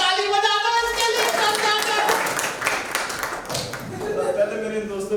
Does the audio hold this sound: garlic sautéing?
no